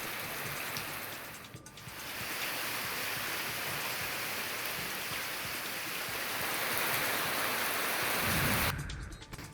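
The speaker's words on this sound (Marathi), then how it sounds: "पावसाची रिपरिप सुरू आहे" Steady drizzling pre-monsoon rain during a heavy unseasonal downpour, a dense, even patter that hisses continuously with a short dip midway and a brief change near the end.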